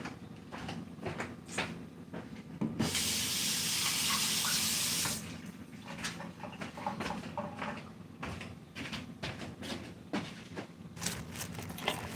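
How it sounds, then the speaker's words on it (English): Hands being washed at a kitchen sink, a faucet running in a loud steady rush for a couple of seconds amid clinks and handling noises before and after. "gotta wash my hands."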